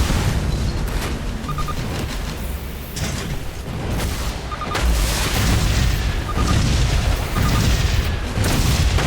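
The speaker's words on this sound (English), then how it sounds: "Those rockets shot out of a place where nobody was." Rockets exploding in the side-scrolling game Shadow Complex, a run of heavy booms and blasts hitting one after another over a rumbling mechanical backdrop, loud and close with no talk.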